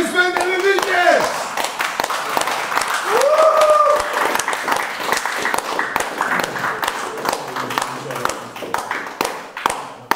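Audience applause at a fight club face-off event, a dense patter of many hands clapping that runs throughout, with a voice speaking over it at the start.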